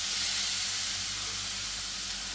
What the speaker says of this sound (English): Hear that wonderful sizzle straight away